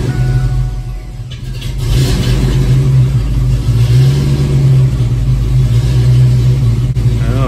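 A hot Ford Mustang Foxbody with a hard-crank and surging-idle problem fires up and runs: a loud, close engine rumble that swells and surges as it revs, with no talking.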